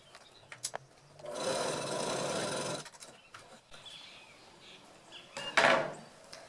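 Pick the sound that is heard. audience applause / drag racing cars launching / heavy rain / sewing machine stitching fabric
sewing machine stitching fabric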